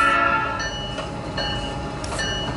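A train in a video game train simulator, with a steady rumbling run and tonal whine, brief clanks and a short horn-like tone near the end, close and moderately loud, with no talking.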